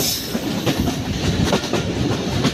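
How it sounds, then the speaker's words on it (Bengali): A train rolls onto the Hardinge Bridge over the Padma River, its wheels clattering in a steady, loud rumble with rhythmic clicks from the rails. "এই আমরা উঠে পড়েছি হার্ডিং ব্রিজে।"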